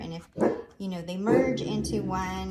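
A dog barks several times close by, sharp yips interrupting and overlapping a person talking.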